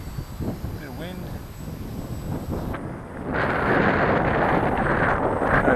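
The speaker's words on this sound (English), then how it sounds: "Bit of wind." Wind buffets the microphone at an RC field during the maiden flight of a Cessna 182 model plane, a rough, steady rumble that grows louder and thicker partway through with no voices heard.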